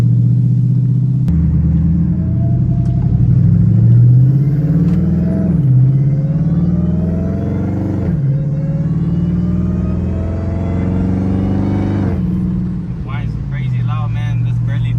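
A 1000 HP Hellcat-swapped Chrysler 300's supercharged engine whines steadily while cruising around 3,000 RPM, its pitch sweeping up and down over a deep, continuous rumble, loud and close.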